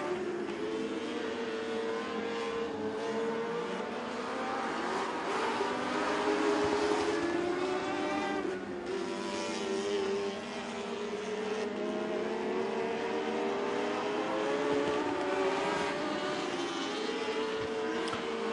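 Open-wheel modified race cars circling Crossville Speedway, a layered buzz of engines rising and falling as cars pass and battle, heard from the stands at a moderate distance with no talk.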